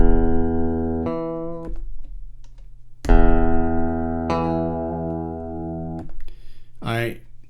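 Electric guitar plugged through a Hosa Sidekick DI box into an MPC Live, playing a few plucked notes and chords that ring and decay one after another, fairly close and clean, with a short vocal sound near the end.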